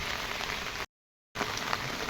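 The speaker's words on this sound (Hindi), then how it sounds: "आज बारिश हो रही है" Heavy rain pours over flooded farm fields, a dense, steady hiss of drops striking surfaces, loud and close, interrupted by a brief dropout before the downpour resumes.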